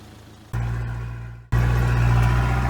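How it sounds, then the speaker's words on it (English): A work truck's engine with no muffler runs loud and raw, with a low throbbing drone that cuts out briefly and then returns even louder, close and with no talk. "You can probably hear it's got no muffler."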